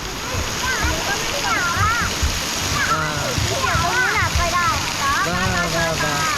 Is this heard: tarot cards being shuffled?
no